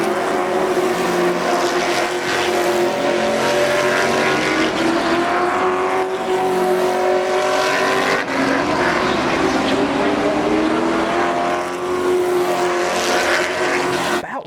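Race cars run on a track with loud, continuous engine roar, rising and falling in pitch as the engines rev and pass.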